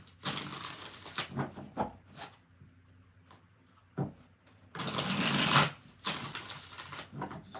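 Tarot cards riffle-shuffled in repeated bursts, crisp fluttering rattles of a deck separated by short pauses, close and fairly loud with no talking.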